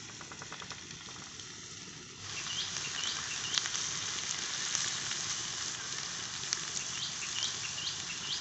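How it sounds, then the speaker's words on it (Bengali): Boneless chicken pieces go into hot refined oil and start frying, a soft patter jumping to a louder, steady sizzle after a couple of seconds, close up with no talk. "তেল গরম হয়ে গেছে, এবার বোনলেস চিকেনগুলো ছেড়ে দেবো।"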